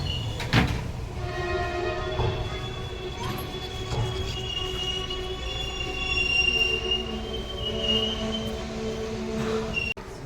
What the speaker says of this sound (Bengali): সকাল প্রায় 7টার সময় আমাদের ট্রেন এসে পৌঁছালো নিউ কোচবিহার স্টেশন